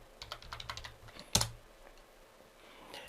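Quick typing on a computer keyboard as a passenger's date of birth is entered, a close run of light, even keystrokes ending in one sharper key press, then a near-silent pause.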